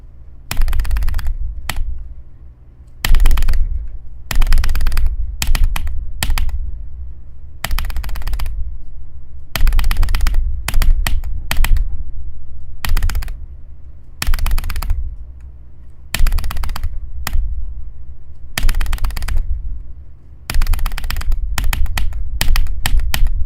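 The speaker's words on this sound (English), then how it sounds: "I'm spam clicking." A mouse is spam-clicked during video game play, with long runs of rapid, close clicks broken by brief pauses and repeated again and again.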